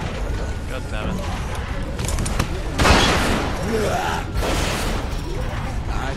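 Rapid bursts of shotgun fire blasting at welded chains in The Walking Dead video game, loud and close, with sharp reports and a heavy boom partway through over a constant noisy backdrop.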